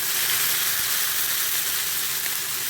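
Onion and tomato sizzling steadily in hot oil in a pan for a crab curry, a continuous close, dense frying hiss with no talk.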